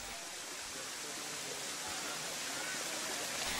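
Curug Cilember waterfall sends down a continuous hiss of falling water, even and unbroken, heard fairly faint at a moderate distance.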